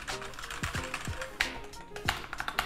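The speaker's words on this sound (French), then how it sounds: "on entend tout de même un bruit de ressort quand on tape sur les touches" Typing on a Cooler Master CK351 keyboard with optical switches, with light spring noise and some chassis resonance. Irregular key clicks and taps land up close, with a few louder strikes, and no talk over them.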